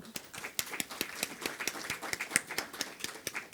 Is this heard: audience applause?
yes